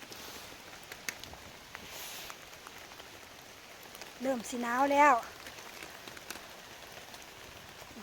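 Steady rain with wind patters throughout, with a brief spoken remark partway through rising above the downpour.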